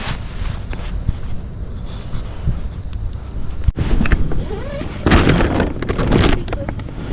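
Strong wind at a state park campsite in bad weather, a steady roaring buffeting against the microphone with gusty surges and some clattering and handling noise.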